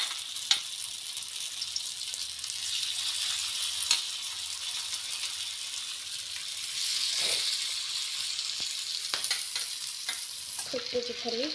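Poi leaf bara frying in hot oil gives a steady close hiss and crackle with occasional stirring clinks, continuous throughout and no talk.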